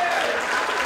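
Audience applause at a Radio Fama launch event, a brief dense burst of clapping heard up close, with a voice speaking over it.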